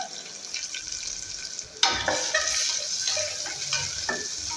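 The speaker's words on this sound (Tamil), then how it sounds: "இப்போ வெங்காயம் தாளிக்கிறதுக்கு வெங்காயத்தை சேர்த்துக்கலாங்க" Onions hit hot oil with already-popped mustard seeds for a chow chow masala kulambu, setting off a sudden loud sizzle midway that keeps crackling and spitting up close, with scraping stirs over a quieter start.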